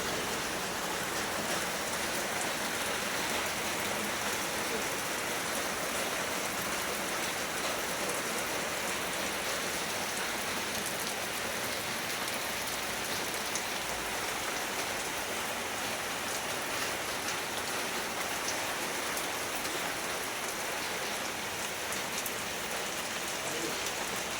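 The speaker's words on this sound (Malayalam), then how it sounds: "അതിനിടയ്ക്ക് നല്ലൊരു മഴയൊക്കെ പെയ്തു കേട്ടോ" Steady heavy rain pours down continuously, a dense even hiss of drops on surfaces with no voices, unchanging from start to finish.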